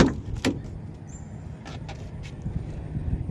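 A 2006 Mazda Tribute 4x4 works its power windows and sunroof, giving a faint motor whir with soft clicks and thumps in a quiet cabin.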